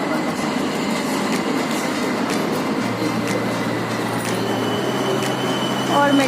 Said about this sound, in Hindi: और मेट्रो आ चुकी है।